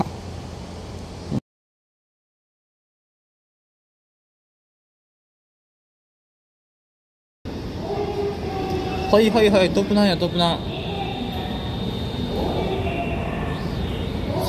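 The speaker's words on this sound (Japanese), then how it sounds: "臨時電車来たよ。" An extra Port Liner train rumbles past nearby with a steady rail roar and some clanking, while a person talks over it after a stretch of silence.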